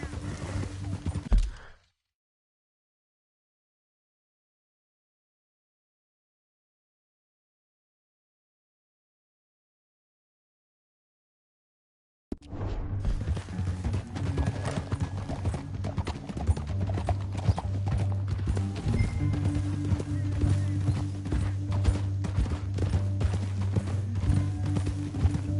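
Video-game horse hooves clip-clop steadily and fairly close, continuing for about ten seconds after a short burst of sound and a long silent gap.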